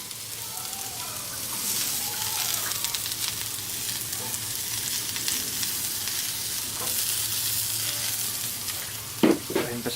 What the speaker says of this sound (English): going to take our peppers right on the griddle